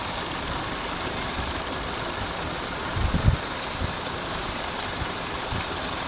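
An electric tubewell bore pump in Punjab, Pakistan runs with a steady broadband rush of motor and gushing water, constant and close, with a brief knock near the middle.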